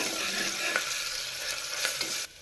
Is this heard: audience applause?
no